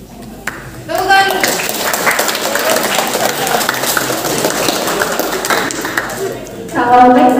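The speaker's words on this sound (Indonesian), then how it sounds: "Tepuk tangan." Students in a large high school classroom at SMAN 2 KS Cilegon clap together for a few seconds in a dense burst, with voices mixed in at the start and end.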